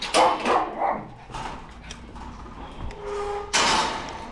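Dogs in a holding area bark in several sharp bursts close by, mixed with whimpers and the rattle of a sliding door or gate.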